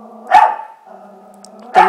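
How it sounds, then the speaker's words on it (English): A pet dog barks twice, close and loud, with the two sharp barks about a second and a half apart and a low hum underneath between them. "Sorry guys, that's my dog."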